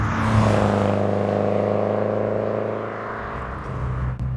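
A 1989 Renault 5 GT Turbo hatchback pulls hard under acceleration from the cabin, its engine droning steadily with a layered rising hum that eases toward the end.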